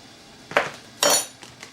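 Fork clinking against a bowl while mixing rice flour and wheat starch, two or three sharp metallic taps with a couple of fainter clicks after, close and alone.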